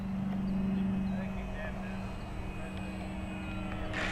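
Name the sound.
FMS Voodoo P-51 Mustang RC plane landing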